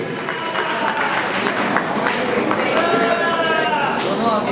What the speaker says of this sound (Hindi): जोरदार तालियां प्रभाकर जी के लिए